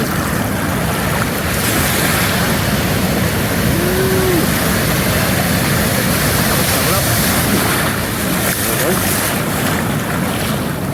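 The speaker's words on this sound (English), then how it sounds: "we're right in the waves right now" Constant roar of Pacific surf and water churning around legs nearby, with heavy wind buffeting the microphone throughout, loud and unbroken.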